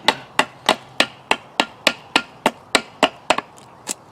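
Machete blade striking wood against a flat stopping surface in a bushcraft setting, about thirteen sharp, evenly spaced chopping impacts close by, with no talking.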